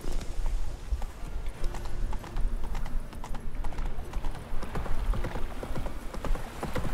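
Roach, Geralt's horse in The Witcher 3: Wild Hunt, gallops with steady clip-clopping hooves, loud and continuous over ambient game sound, with a brief neigh.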